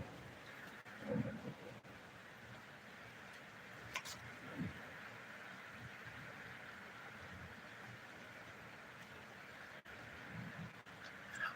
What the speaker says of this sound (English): Outside, it's raining.